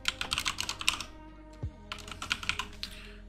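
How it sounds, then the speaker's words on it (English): A computer keyboard is typed on in two quick bursts of close, crisp key clicks with a short pause between them. "we're gonna type in our username pretty much."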